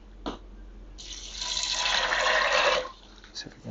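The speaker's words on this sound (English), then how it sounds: "So I'm going to put at least 2 cups of this water" About two cups of water poured into a canteen, a steady splashing pour of roughly two seconds, close and moderately loud, with quiet pauses before and after.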